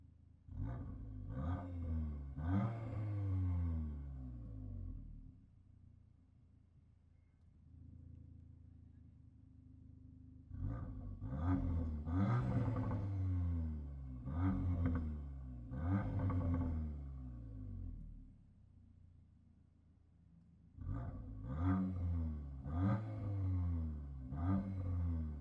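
Exhaust from a 2023 Audi S3 (8Y) with a CTS resonator delete and valves open, three loud revving bursts with a deep rumble and crackle, separated by steadier lower idle-like drone.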